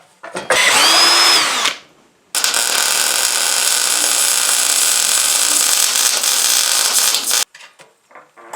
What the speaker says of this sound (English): drill a hole about right here, put a bend right there